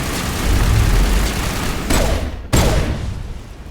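Gunfire from the video game Mass Effect in a loud, dense firefight: a continuous rumble of weapon fire and booms, then two distinct sharp shots close together near the end.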